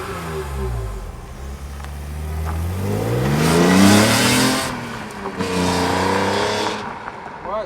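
A BMW M3 CSL pulls away, its engine note climbing through the revs to a loud peak, dipping at a gear change, then rising again, heard close up with no talking.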